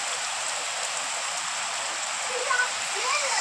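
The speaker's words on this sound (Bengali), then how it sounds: "বৃষ্টি আসলো আর খুব জোরে বৃষ্টিটা হচ্ছে।" Heavy rain pours down hard and steady, a dense continuous hiss with a few faint splashes near the end.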